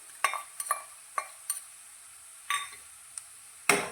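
Garlic, onion, green chili and grated ginger stirred in a pan for a spinach and peas dish, with a handful of sharp spoon clacks and scrapes over a faint sizzle, close and sparse, no voices.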